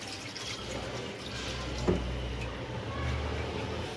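Water runs steadily into a washing machine tub while starch is being added to the clothes, a continuous close hiss and splash with one brief knock near the middle.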